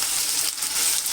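Onions sautéing with ginger garlic paste and tomatoes for a crab masala, giving a steady, close, loud sizzle with a brief stir partway through.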